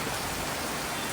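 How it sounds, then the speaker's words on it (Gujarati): Heavy rain pours down in Modasa, a steady, dense hiss of falling water that stays even and close throughout, with no voices. "દિવસે વરસાદ આવ્યો એટલે બહુ ઠંડક સારી એવી થશે."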